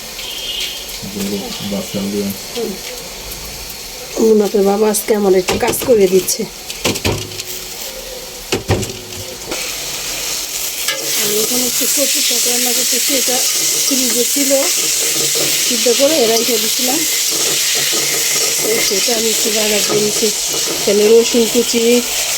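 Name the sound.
spices frying in a pan on a gas stove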